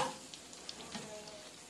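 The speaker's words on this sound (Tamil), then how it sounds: "இது இப்போ ஃப்ரை ஆயிட்டு நல்லா" Potato smiley emojis frying in hot oil, a steady soft sizzle with faint crackles throughout, fairly quiet and close, no voices.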